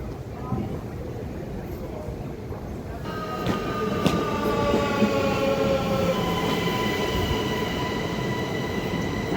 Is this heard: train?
yes